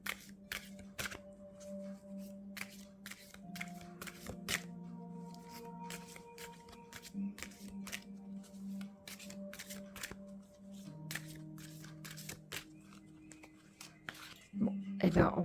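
Lenormand oracle cards are shuffled in quick, crisp bursts of riffling and flicking, close and fairly quiet, while someone speaks French over them.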